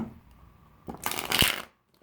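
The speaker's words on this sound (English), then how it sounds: "That was not a good shuffle." A brief riffle of playing cards being shuffled, a quick papery flutter lasting under a second after a quiet moment.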